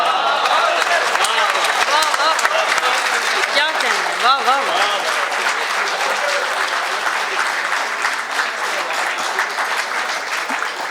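Sustained applause from a mushaira audience for poet Aqeel Nomani, a dense wash of clapping running the whole length while a voice speaks over it in the middle.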